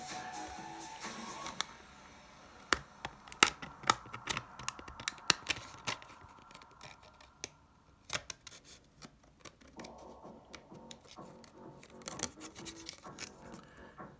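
Homemade trimmer blades cut through paper with close, sharp snips and crisp rustles in irregular bursts, separated by quieter pauses.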